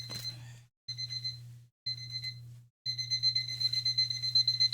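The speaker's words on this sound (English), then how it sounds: "Yeah, it's my fucking alarm clock." An alarm clock rings in repeated electronic beeping bursts, three short spells with gaps, then a longer continuous run, loud and close with no voices.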